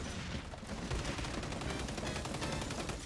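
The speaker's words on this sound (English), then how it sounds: "I'm missing all my shots." Rapid automatic gunfire in the video game XDefiant sounds as a dense, continuous rattle of close shots with no pauses, loud and steady throughout.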